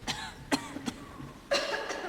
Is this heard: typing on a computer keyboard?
no